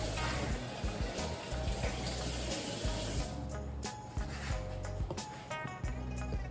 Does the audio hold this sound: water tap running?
yes